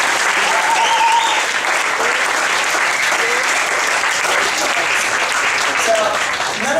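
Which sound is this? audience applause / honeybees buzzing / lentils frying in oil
audience applause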